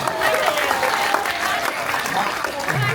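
A crowd at a charity fundraiser auction for pediatric patients bursts into dense, continuous applause, with voices mixed into the clapping.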